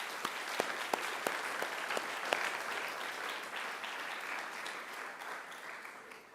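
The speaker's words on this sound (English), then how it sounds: "I'd ask you to give them a round of applause too" A graduation audience at Macquarie University applauds the academic staff, a fairly distant, even wash of clapping with a few sharper claps near the start, lasting throughout.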